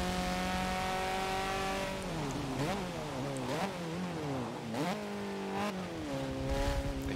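A 1987 Ford Sierra Cosworth RS500 races in Sport Touring class in Forza Motorsport 7, its engine droning steadily before revving hard through rapid gear changes and rising, falling pitch sweeps, loud and close throughout with no talk.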